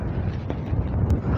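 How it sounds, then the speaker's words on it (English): Gusty outdoor wind ahead of a storm rumbles steadily against the microphone as a low, continuous roar with no one talking. "It's getting windy."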